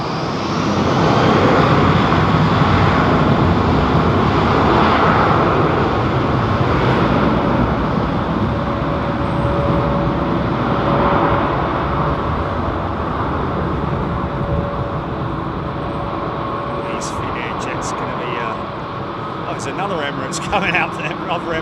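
An Emirates Airbus A380 departs London Heathrow, a loud, sustained jet engine roar with heavy low rumble that slowly fades, with faint clicks near the end.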